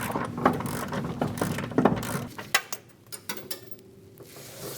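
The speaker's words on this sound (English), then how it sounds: "Using a 13mm socket, we're going to remove the 3 nuts for our steering shaft bracket." Ratchet with a 13mm socket loosening steering shaft bracket nuts on a 2003-2025 Chevrolet Express 2500 van, giving quick bursts of mechanical clicking that come in short runs and then thin out toward a quieter stretch.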